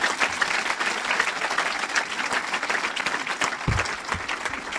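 Church congregation applauding in a hall, a steady close wash of many hands clapping throughout, dense and even.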